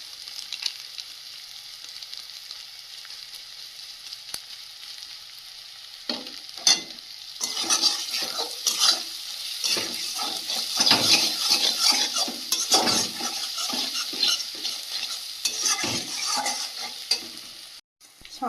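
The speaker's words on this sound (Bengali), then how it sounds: "সামান্য একটু জল দিয়ে দেবো দিয়ে মশলাটা ভালো করে ভেজে নেব" Spice masala fries in a pan for a country chicken curry, a bright continuous sizzle with scraping stirring strokes and utensil clinks, close and loud, with no talking.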